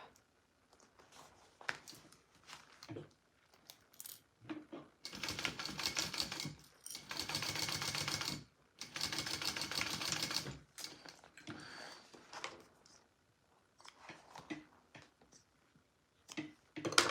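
A sewing machine bastes fabric for a Rosie sling, running in bursts: short stitching spurts early on, then two long steady runs of close rapid stitching, followed by lighter intermittent stitches.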